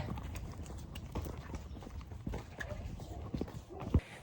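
Hooves of a horse clip-clop on a trail ride, a steady close rhythm of hoof falls running throughout while people talk over them.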